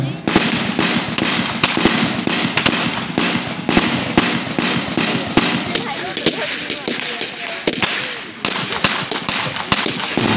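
Gunfire at a military field demonstration, dense rapid cracks of small arms firing in quick bursts, loud and close, with people talking over the shots.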